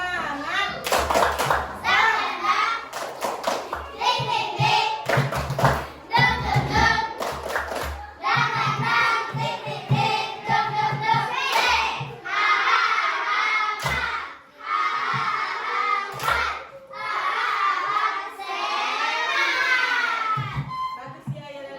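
A class of young children performs a rhythmic clapping chant led by a teacher, bursts of loud synchronized claps and thumps alternating with chanted and sung phrases from the kids, repeated in several rounds.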